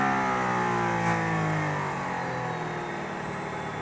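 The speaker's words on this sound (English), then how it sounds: "I'm in a car with a Formula One engine, driving over a Formula One racetrack behind the Formula One safety car" A Mercedes-AMG ONE with a Formula One engine is driven on the Barcelona racetrack behind the safety car on cold tires. Its engine drones loud and close in one continuous pull, its pitch climbing steadily as the throttle is fed in.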